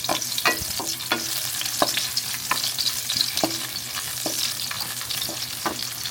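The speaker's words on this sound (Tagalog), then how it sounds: "Tapos ng onion, sutin lang natin konti." Onion sautéing in a pan for fried noodles, a steady sizzle and frying crackle with repeated scraping stirs of a utensil against the pan, close and continuous, with no talking.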